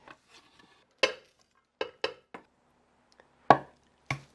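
Chili peppers chopped into thick chunks with a knife on a cutting board, six or seven sharp, close knocks at uneven intervals with quiet gaps between and a few softer taps.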